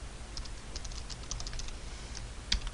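Soft, quiet typing of code on a computer keyboard, irregular light key clicks with a couple of sharper presses near the end.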